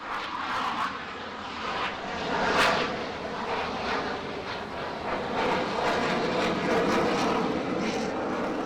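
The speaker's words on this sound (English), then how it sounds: "F-14, and he is really putting it on." An F-14 fighter jet roars loudly overhead at full power in a sustained, heavy rumble that swells and stays intense throughout, with no voices.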